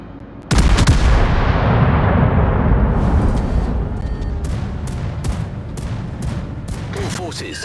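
Main guns of the battleship Duke of York fire in the naval video game World of Warships. A single sudden, massive boom is followed by a long rumbling roll, and sharp smaller reports crackle through the fading tail.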